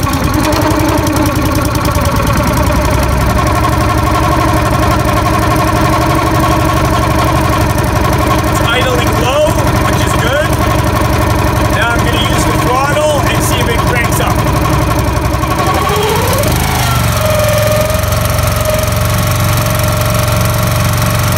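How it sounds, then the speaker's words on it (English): A Honda GX160 small engine runs after throttle control repairs, with a steady loud mechanical drone and a brief rev change near the end. "I'm gonna fire it up and see how the engine runs if I actually have throttle control back again."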